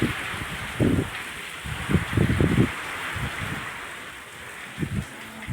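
Heavy rain pours in a steady broadband hiss while strong wind gusts through, with low rumbling bursts from gusts or handling noise, close and continuous.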